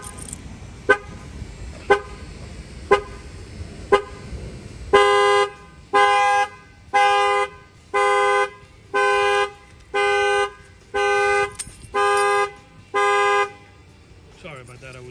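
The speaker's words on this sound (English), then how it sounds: "Everybody knows if their doors open, their factory alarm is going to set off." A factory alarm on a 2021 Chevy Suburban sounds off: a few quick chirps, then a loud, steady run of rhythmic horn honks pulsing about once per second, close by.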